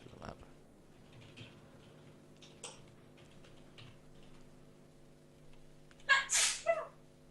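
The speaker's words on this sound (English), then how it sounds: "I need to sneeze" A single loud, close sneeze bursts out near the end after several seconds of a quiet, steady low hum with faint occasional ticks.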